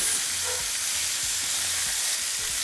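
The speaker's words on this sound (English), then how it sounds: "we're just going to be searing for 3 minutes per side" Beef for carnitas sears in a hot pan with a loud, steady sizzling hiss that fills the whole stretch. A low rhythmic hum pulses underneath.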